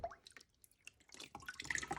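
A paper mould dipped into a shallow vat of water and rag pulp drips with quiet, scattered patters and trickles, building into denser splashes near the end.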